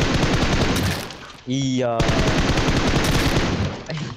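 Rapid automatic gunfire in the mobile battle royale game PUBG Mobile sounds as dense, loud, continuous bursts. A brief voice and a short electronic tone break in about midway.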